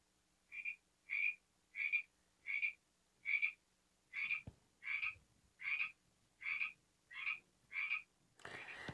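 Frog croaks synthesized by a PICAXE microcontroller chip, eleven evenly spaced electronic croaks in a steady rhythm, fairly clear and alone, ending with a brief burst of noise.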